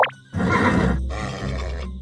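A horse in the Minecraft video game gives a loud, close, drawn-out whinny lasting over a second, alone with no talking.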